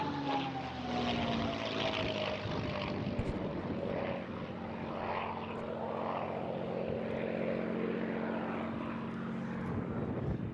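A Rolls-Royce Merlin-powered propeller aircraft flies past at the Eastbourne International Airshow, a loud, sustained engine drone whose pitch slides downward as it passes.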